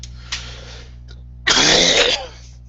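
A single loud, harsh cough bursts out alone after a short quieter throat noise, lasting under a second against a steady low hum.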